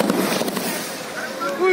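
Fireworks set off by celebrating political supporters crackle and pop in a dense burst, partly masked by a voice speaking over them.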